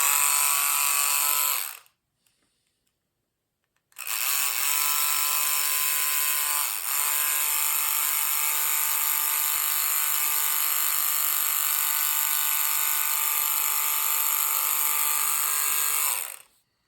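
A Ninco slot car motor under pinion repair runs with a loud, steady electric whine. It cuts out briefly near the start, then resumes and holds a constant high buzz until it stops at the end.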